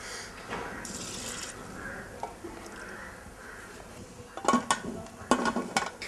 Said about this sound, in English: Since I've added 2 cups of rice, I'm adding about 8 cups of water.